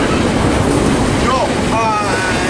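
Freight train rolling through Fullerton Station, a steady loud rumble of wheels and cars with brief squeals, and voices faintly underneath.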